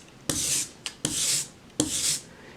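An ink brayer rolled over an inking slab for relief printing, three sticky, tacky rolling passes, each beginning with a sharp onset and a shorter tap between them, close and isolated.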